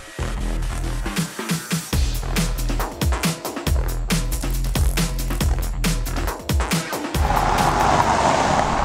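A Chevrolet Trailblazer cruising on an ordinary road, its engine and tire noise steady and close with repeated low thumps, swelling into a broader rushing roar near the end.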